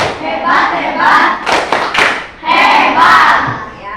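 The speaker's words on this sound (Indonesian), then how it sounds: "Coba tepuk hebat untuk kalian semua." A class of pupils claps a rhythmic praise clap in loud grouped bursts of hand claps, mixed with children's voices calling out together.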